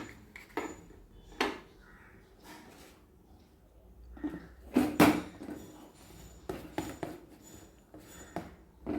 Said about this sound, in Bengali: কৌটোর ঢাকনাটা ভালো করে আটকে দিলাম